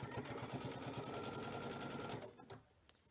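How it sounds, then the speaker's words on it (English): A sewing machine with a standard presser foot runs steadily and close by for about two seconds, stitching a felled seam on a quilt with a fast, even rhythm, then slows and stops with a few faint mechanical clicks. "And I will be stitching. So here is my second seam"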